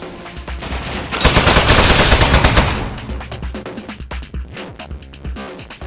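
Automated turret in the video game Aperture Desk Job firing a sustained burst of rapid gunfire, loud and dense for a couple of seconds, then breaking into scattered sharper shots and impacts.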